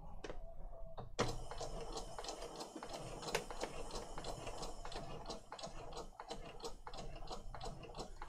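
A sewing machine stitches through a shabby chic paper tag for a junk journal, a steady run of close mechanical ticking and clattering that continues without pause after a brief start.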